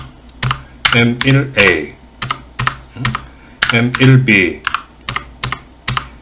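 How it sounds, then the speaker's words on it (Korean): Keys clatter on a computer keyboard while programming an XBC PLC for an electrical exercise, with quick clusters of crisp, close keystrokes and short pauses as someone speaks Korean between them. "이렇게 타이핑 치고, 타이핑을 또박또박 잘 쳐야 돼."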